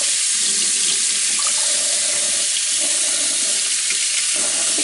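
Homemade butter is rinsed under a running tap in a sink, a steady close hiss of flowing water with soft splashing and sloshing throughout.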